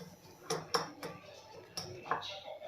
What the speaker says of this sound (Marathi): आता हे मिक्स करून घ्यायचं आहे आपल्याला